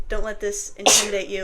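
A single loud, abrupt human sneeze bursts out in the middle of a person talking, with speech both before and after it.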